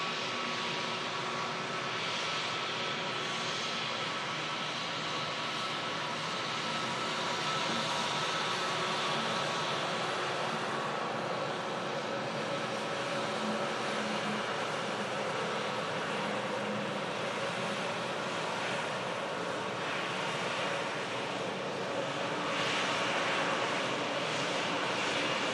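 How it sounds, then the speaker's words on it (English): A heavy aircraft passes over the airfield at Manchester Airport, a loud, sustained engine roar that holds steady overhead without pause. "Here's something heavy going over the top. Sounds like an A400 or something."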